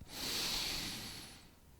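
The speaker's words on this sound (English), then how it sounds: "Continue breathing in and out of your nose." A strong, controlled breath drawn in and pushed out through the nose during a calming yoga exercise, a single loud airy rush that swells quickly and then slowly fades, close and alone.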